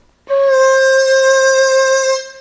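A single sustained Chinese bamboo flute note with the tuning joint pushed in, clear and steady with a breathy edge, held for about two seconds alone.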